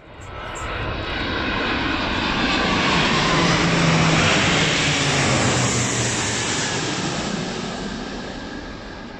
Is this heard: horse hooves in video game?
no